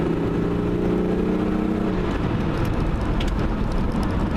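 Ford Mustang on studded tires cruising over dry asphalt, a loud continuous road roar with gritty tire noise and a low engine hum that fades after a couple of seconds.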